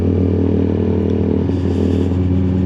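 Motorcycle in commuting traffic, a steady close engine drone with low rumbling tones held throughout, a slight shift in pitch midway, with no talk.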